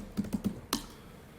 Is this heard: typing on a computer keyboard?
yes